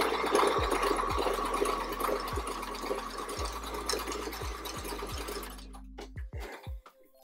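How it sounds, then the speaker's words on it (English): A home sewing machine stitches fabric for a tiered maxi skirt, a close, steady moderate-speed whirring hum with a few thumps, then slowing and stopping near the end. "even if I'm sewing very quick, it's not actually that fast"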